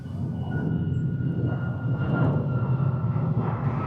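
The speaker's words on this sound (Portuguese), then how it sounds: "tínhamos que ter um avião a estragar tudo" Airplane flying overhead during outdoor filming at a modern house, a steady low rumbling drone with a faint whine that swells slightly midway, continuous and fairly loud for the whole stretch, no talking.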